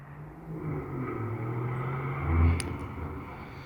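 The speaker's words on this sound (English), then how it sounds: "The car is approaching" A Mercedes-AMG GLC 63 S engine hums in the distance on a race track, swelling slightly as it draws nearer, with a low steady rumble throughout.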